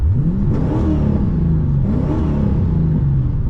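Corvette V8 exhaust revving while driving, a steady loud rumble rising and falling in pitch through two acceleration pulls, with no talking.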